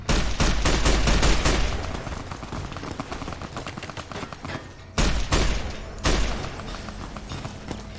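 Rapid automatic gunfire crackles in Fallout: New Vegas, a dense burst of shots for several seconds, then a pause and two more sharp volleys, loud and close.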